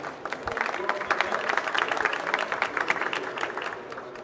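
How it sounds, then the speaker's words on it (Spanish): An audience at a Latin American climate action presentation applauds steadily, a dense patter of many hands clapping throughout, with a voice speaking faintly underneath. "Aplausos, sí."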